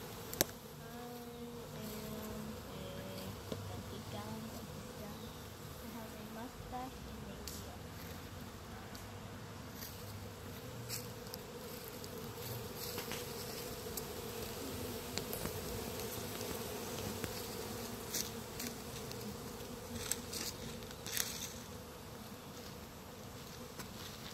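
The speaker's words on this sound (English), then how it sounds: "There's a lot of bees in that wood." A dense, steady buzzing of many honey bees in hive woodenware at Longwood fills the whole stretch, close and continuous, with faint scraping and shuffling of a beekeeper sweeping underneath.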